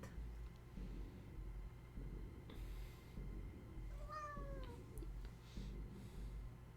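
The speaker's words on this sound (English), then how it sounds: "Also, Cat says hello" A cat in an indie dating sim meows once, a faint rising and falling call over a steady low rumble.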